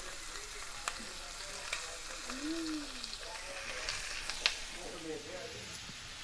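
Shrimp hiss and crackle steadily in a hot pan over high heat, a soft continuous sizzle with occasional pops and faint clinks, while someone talks lightly over it.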